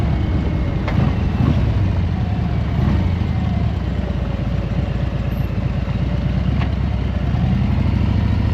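A Harley-Davidson Road Glide's engine rumbles steadily while riding, a low continuous throb with wind noise and a few faint clicks, no one talking.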